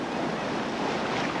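Whitewater rapids crashing against rafts on a river run, a loud continuous roar of churning water and spray with wind rumble and no voices.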